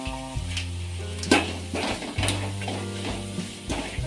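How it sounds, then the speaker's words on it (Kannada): Dry grated coconut fries in a pan on low flame with a steady close sizzle and a few stirring scrapes, and no voices. "ಇದನ್ನು ಕೂಡ ಸಣ್ಣ ಉರಿ ಇಟ್ಕೊಂಡು ಸ್ವಲ್ಪ ಫ್ರೈ ಮಾಡ್ಕೋಬೇಕು"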